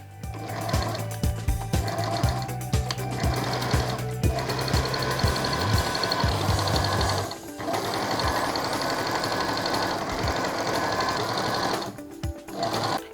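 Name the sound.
sewing machine stitching sutana extension to back panel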